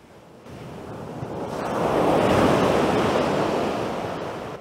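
A sea wave washes onto the beach at Becici, Montenegro, in November, swelling from a quiet hiss into a loud, broad rush near the shore before slowly receding, with wind noise on the microphone and no speech.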